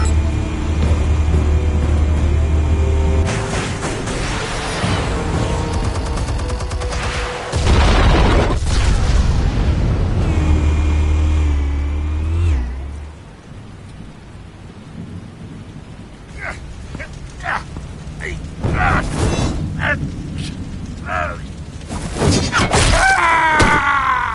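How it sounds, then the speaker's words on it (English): Armed explosives detonate in a Batman game, a loud rumbling blast with heavy low-end boom that rolls on for several seconds, then fades into scattered crashes, thuds and debris, followed by more bursts of impact noise. "Explosives armed. Fire when ready."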